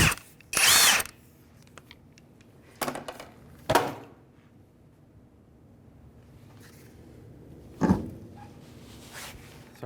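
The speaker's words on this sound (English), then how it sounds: "To remove our wheel, it's going to be a 19mm socket. I'll take our wheel off now." A power tool fitted with a 19mm socket removes the wheel of a 2005 Honda Element, giving a few short, sharp bursts spread across the time, with quiet gaps and clunks of handling in between.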